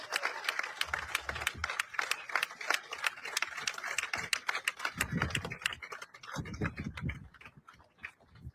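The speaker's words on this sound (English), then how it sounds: "Let's give a round of applause." Applause from an audience honoring soldiers at an Army re-enlistment ceremony, many hands clapping in a steady, moderately loud patter with a few low thumps, continuing for several seconds.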